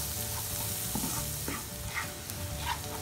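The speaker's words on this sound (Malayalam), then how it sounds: "ഉള്ളി ഒന്ന് സോട്ടായതിന് ശേഷം നമുക്ക് മുറിച്ച് വെച്ച പച്ചമുളക്, ഇഞ്ചി, വെളുത്തുള്ളി ഇതിലേക്ക് ഒന്ന് സോട്ട് ചെയ്ത് വെക്കാം." Green chili, ginger and garlic sautéing with onion in a pan for palak chicken, a dense steady sizzle with soft stirring scrapes, close up and without speech, while a faint dog barks in the distance.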